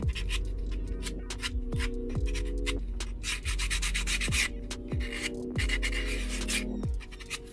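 Hand file rasping steadily along the edges of a custom knife blade to cut chamfers and break the corners, a close, continuous scraping stroke with repeated rhythmic passes and a low hum underneath.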